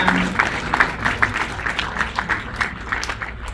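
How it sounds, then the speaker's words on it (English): Audience at an evening panel and mixer event applauding together, a steady close burst of clapping from a modest crowd with a little voice mixed in. "can you please all like clap for yourselves?"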